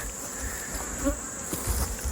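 A dense, steady buzz of many honey bees swarming close by around an open hive, with individual insects droning past now and then.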